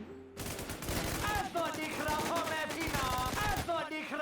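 Rapid bursts of gunfire from a powerful, small-magazine gun in the online shooter Warz, loud and sustained with dense repeated shots and brief pauses between volleys.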